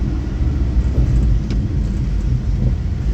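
Vehicles on a Konkan road make a loud, steady low rumble with continuous road and engine noise and no breaks.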